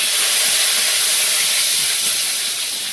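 Panch phoron and bay leaves hit hot oil in a home kitchen, producing a loud, steady, bright sizzle that fills the whole stretch without pause and eases slightly toward the end.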